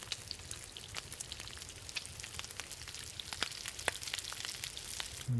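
Venison sizzling and crackling over a campfire in a video game, a steady faint frying hiss with scattered pops and ticks throughout, no talking.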